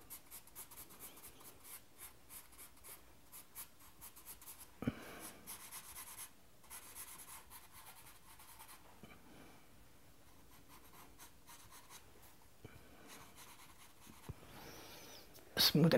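A pencil draws eyebrows on paper in soft, steady scratching strokes, faint and close, with a few light taps and brief pauses between strokes.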